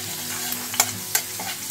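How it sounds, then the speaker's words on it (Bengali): Grated garlic and a dried red chili fry in hot oil with nigella seeds as a tempering for jute-leaf curry, a steady close sizzle broken by a few sharp stirring scrapes. "এবার একটু ফ্রাই করে নেব। দিয়ে দিলাম এর মধ্যে গ্রেট করে রাখা রসুনের কুচি।"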